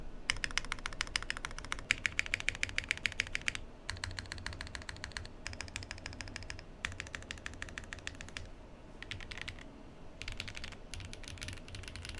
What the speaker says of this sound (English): this big honking mass of a keyboard sounds amazing out of the box